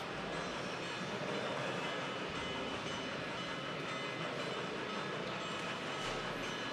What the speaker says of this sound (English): the next timetable train arrives for a stop in Hoquiam